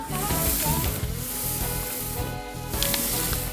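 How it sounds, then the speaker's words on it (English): Round beef tenderloin searing on a hot grill gives a steady close hiss and sizzle, with a sustained tonal hum running underneath and a brief lull before the sizzle swells again. "because the tenderloin is round, I'm actually going to have to sear it on 3 sides"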